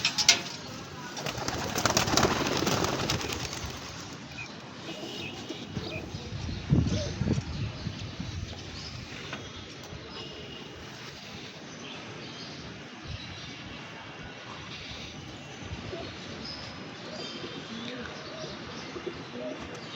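Racing pigeons released outdoors on a cold day, a burst of wing flapping early on followed by soft cooing and bird calls, with a faint distant aircraft drone and people talking in the background.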